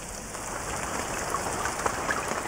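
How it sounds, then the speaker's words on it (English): Heavy rain pouring down on an outdoor archaeological excavation trench, a steady dense hiss of drops with a few sharper splashes, continuous and close, no voices. "Back outside, it's now raining cats and dogs on our archaeologists in Trench 1."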